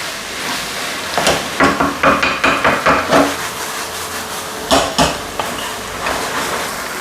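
Spring roll filling with glass noodles being stir-fried in a pan, a run of rhythmic scraping strokes of a spatula against the pan over a soft sizzle, close and fairly loud, with no talking.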